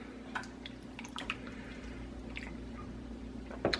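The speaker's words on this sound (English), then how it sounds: "we're going to give that a stir" Diced tomatoes are stirred in a soup pot, giving faint, scattered wet squishes and soft drips over a low background hum.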